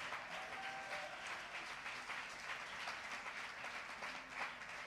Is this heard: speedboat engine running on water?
no